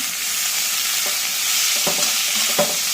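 Onions fry in a pan for chicken curry with a loud, continuous hissing sizzle, while a utensil stirs them with faint scrapes and taps, close up and without speech.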